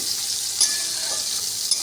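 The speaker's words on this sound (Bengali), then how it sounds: "পেঁয়াজটা আমি ভেজে নিচ্ছি।" Sliced onions sizzle steadily in hot oil for beresta, a close, even hiss with a couple of faint clicks and no voices.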